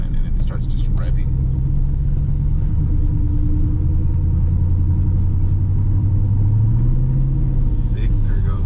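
A car's engine drones loudly from inside the cabin, a low steady rumble whose pitch slowly climbs and swells as it revs without the car taking third gear.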